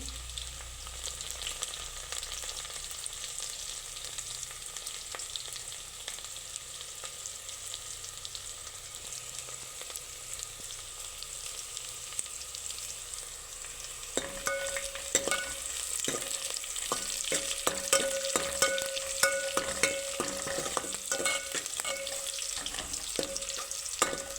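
Dried red chillies frying in hot oil in a pan, giving a continuous sizzle that grows busier and crackles more sharply partway through, with no one speaking.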